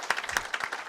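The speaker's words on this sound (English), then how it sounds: "I need a big round of applause." An audience at a ship recycling forum in Singapore breaks into a short burst of applause, dense overlapping clapping that fills the room.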